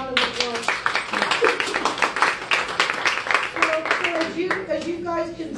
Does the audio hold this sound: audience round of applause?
yes